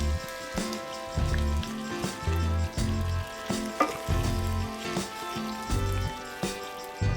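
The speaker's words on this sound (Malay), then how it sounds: "Lepas tu kita goreng daging ni." Boiled beef seasoned with salt and turmeric sizzles as it fries in hot oil, a close, steady crackle that surges and settles in bursts as the pieces are stirred, with no talking.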